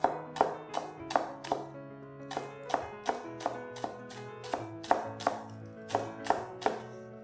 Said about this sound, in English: Just cut up the white parts of the spring onions.